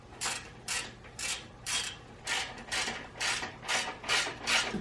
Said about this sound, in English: We can reinstall our bolts that hold the condenser lines in.